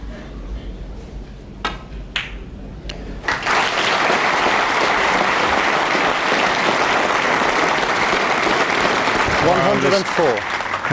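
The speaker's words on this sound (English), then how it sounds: "Crowd really appreciating that positional shot there." A snooker crowd at the 2007 World Championship quarter-final, Stephen Maguire against Anthony Hamilton, bursts into loud, sustained applause after a few isolated claps, filling the hall steadily for several seconds while a voice speaks briefly near the end.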